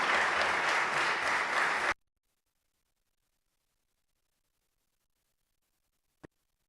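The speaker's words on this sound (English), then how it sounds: "Please give them a round of applause" An audience at a medical conference applauds with a dense burst of clapping for about two seconds, which then cuts to silence apart from one faint click.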